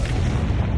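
A Confringo spell detonates in Hogwarts Legacy, a short, heavy booming blast with deep low rumble, loud and close, lasting under a second.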